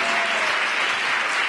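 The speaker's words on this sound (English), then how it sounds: "put your hands together and keep clapping for the angels of transformation" A church congregation applauds together at a Go Red memorial service, dense sustained clapping from a large crowd that stays loud and even with no pauses.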